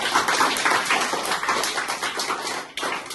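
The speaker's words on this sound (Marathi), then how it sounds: "सगळ्यांनी टाळ्या वाजवून मॅडमचं धन्यवाद करावा" A crowd of children claps together to thank a teacher, a dense, busy burst of many hands patting at once, loud and close, with no voices heard.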